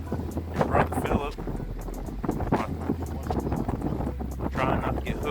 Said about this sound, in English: The wind's blowing at 30 miles an hour